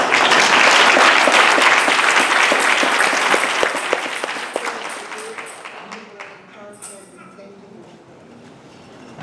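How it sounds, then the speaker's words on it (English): Church congregation at a praise and worship service gives a big round of applause, dense loud clapping that gradually thins and fades out, with some voices in the room. "give Brother Weaver a big round of applause, please."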